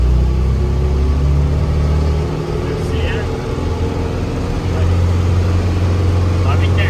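A car engine fitted with a turbo and intercooler upgrade kit drones loudly and steadily, its low rumble dipping briefly as the throttle lifts and then surging again, with someone talking over it.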